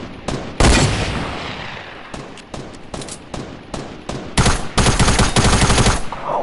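Bursts of automatic gunfire rattle through an online shooter match, loud and close, with rapid volleys separated by short pauses and one long sustained spray near the end.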